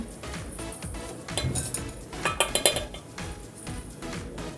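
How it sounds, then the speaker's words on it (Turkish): A metal lid clatters onto a pot of blackberries and sugar for jam, a few close clinks and knocks of cookware rising in the middle against a quiet kitchen background, no speech. "Bir su bardağı şekeri de ilave ettikten sonra kapağını kapatıyoruz."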